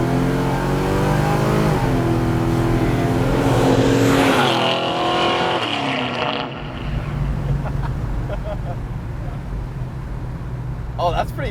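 A 400-horsepower 1972 Chevy Nova accelerates hard on an open road, its engine note climbing through a loud, rising rev before easing off into a steady roar, with occasional voices over the engine.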